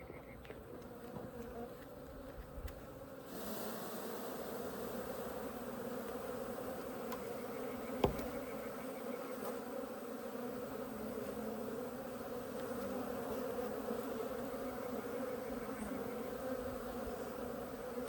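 Africanized bees buzz in a steady, dense swarm drone during removal of a colony from a shed floor in Southern Arizona, close and continuous throughout with one sharp tap partway.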